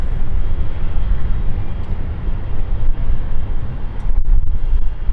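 An airliner taxiing away from its stand at London City Airport, a continuous loud low engine roar heard from a distance, with some wind buffeting on the microphone.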